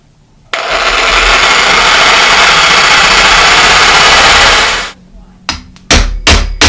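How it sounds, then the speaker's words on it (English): A reciprocating saw cuts into a steel bicycle crank arm on a 1982 Schwinn World Traveler in one loud, steady buzzing run of about four seconds. Several sharp metallic knocks follow after it stops. "So I'm going to take a reciprocating saw."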